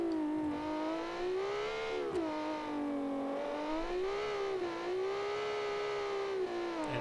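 A 1972-season rally car engine with VTEC revving hard, a sustained droning whine that rises and dips in pitch as the throttle swells and eases, steady and close, with no voices.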